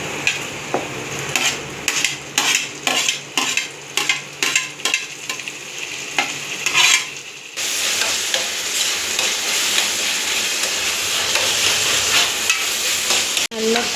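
Onions fry in a pan for mutton gravy. A utensil first stirs and scrapes them in a quick rhythm of clinks, then a loud, continuous sizzle takes over, close up.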